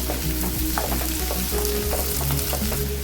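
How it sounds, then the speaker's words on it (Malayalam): Chopped onion and curry leaves sauté in oil with a loud, dense, continuous sizzle and crackle, close up, with faint stirring and no talk. "അരിഞ്ഞത് ഇട്ട് കൊടുക്കാം കുറച്ച് വേപ്പില ഇതൊന്ന് വഴറ്റിയെടുക്കാം"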